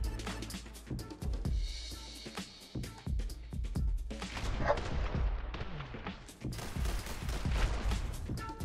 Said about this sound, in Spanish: El efecto de la de los disparos es excelente, loco.